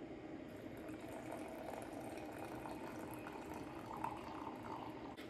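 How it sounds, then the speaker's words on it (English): Water poured into an AeroPress coffee maker up to the two line, a soft continuous trickling and splashing fill that holds steady at low volume for several seconds. "So I'm gonna fill my water up to the two line"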